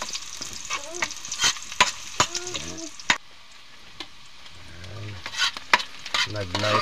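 Onion, garlic and bitter gourd frying in a pan, stirred with a utensil that gives repeated sharp scraping clacks over a continuous sizzle, close and fairly loud, with a brief quieter pause midway.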